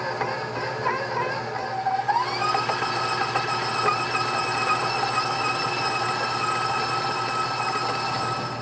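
Stand mixer creaming butter at slow speed for chocolate chip cookies, a steady whirring motor with a pitch rise partway through, continuous and close with no talk.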